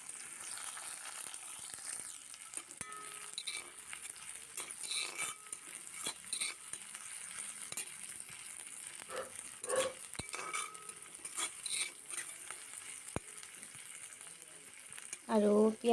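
Onions sizzle in a new iron wok with whole cumin seeds, a steady crackling fry broken by clinks of a spatula against the pan, with a brief voice near the end.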